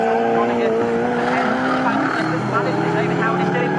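Pre-1983 Group 1 touring cars race at Snetterton, engines roaring loud and steady as a close pack powers through, with a faint tyre squeal and continuous commentary over the top.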